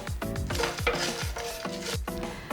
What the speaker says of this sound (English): Now adding chilies and Sichuan peppercorn.